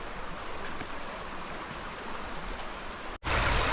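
Fast-running stream water on the Appalachian Trail, a steady close broadband rush with no voices, briefly cutting out near the end before returning louder.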